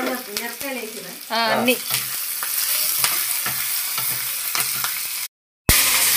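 Ingredients for pappu charu being stirred and fried in a pan, with steady close scraping and sizzling. A voice speaks briefly at the start, and a short silent gap comes near the end.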